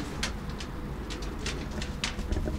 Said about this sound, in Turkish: Burada diğer bir arkadaşımızın güvercinleri var.